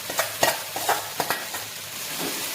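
Leftover masala khichdi being stirred into reddened fried onions in a pan, rhythmic scraping strokes about every half second over a soft sizzle, close and clear.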